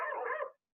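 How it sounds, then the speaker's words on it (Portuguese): A single short bark from a dog, close and moderately loud, cutting off abruptly with silence after it. "Olha os cachorros."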